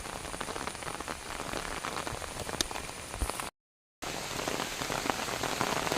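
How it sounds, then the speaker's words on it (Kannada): Heavy rain falls in a steady, dense patter on surfaces outdoors where cattle graze. A constant close hiss of drops is broken once by a brief gap of silence. "ಇವಾಗ ಮಳೆ ಜೋರಾಯಿತು"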